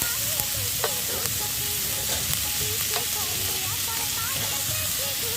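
Egg and chopped carrot fry in butter with a dense, continuous sizzle and crackle, occasional stirring scrapes poking through the steady hiss.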